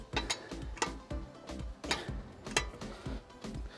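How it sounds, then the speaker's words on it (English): Wrench ratcheting as wheel nuts are tightened on a car wheel during a tyre change, a close, fairly quiet series of rhythmic clicking bursts repeating steadily without speech. "then just give your go around the whole set of nuts again."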